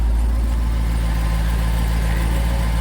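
Dodge Durango RT 392 Hemi V8 idling on a warm engine, a steady low exhaust rumble with a constant hum and no revving, close by and alone throughout.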